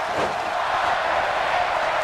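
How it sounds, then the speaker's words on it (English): A large arena crowd in the WWE 2K18 wrestling video game roaring steadily, a dense continuous wash of voices with no distinct chant rhythm standing out. "The crowd chanting Undertaker once again"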